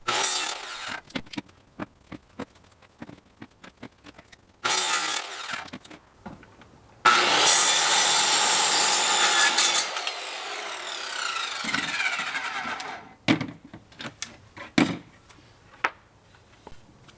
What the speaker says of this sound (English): I really didn't worry about the kerf width of the saw blade